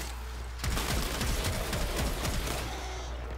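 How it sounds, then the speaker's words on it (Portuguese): Rapid gunfire erupts in the video game Warframe, a dense fusillade of overlapping shots and booms that starts abruptly and keeps going loud and continuous to the end, with no talk over it. "Agora é só tiro para todo lado."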